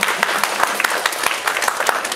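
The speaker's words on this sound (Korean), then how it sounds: "감독님께도 박수 한번 부탁드릴게요." An audience at a Korean film screening Q&A applauds the director, with brisk, close clapping and distinct individual claps running steadily throughout.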